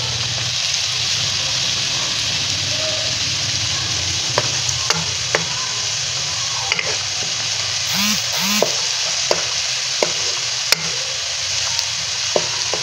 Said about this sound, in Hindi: प्याज लाइट ब्राउन हो रहा है, इसमें 1 टेबल स्पून अदरक लहसुन का पेस्ट ये क्रश कर लिया मैंने, डालूंगी